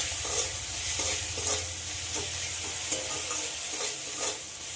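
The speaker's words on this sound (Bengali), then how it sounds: "এই সসটা দিয়ে কিছুক্ষণ নাড়াচাড়া করে নিতে হবে, খুব একটা বেশি ভাজার দরকার নেই" Homemade tomato sauce with boiled lentils stirred in a pan for a sweet-sour dal, a continuous soft sizzle with scraping stir strokes, close and without talk.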